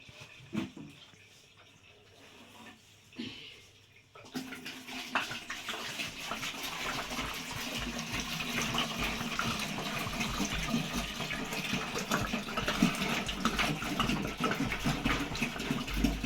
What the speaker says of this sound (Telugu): నీళ్ళు ఇందులో పోసుకొని